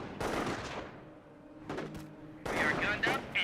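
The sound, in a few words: rifle squad gunfire in Company of Heroes 1 video game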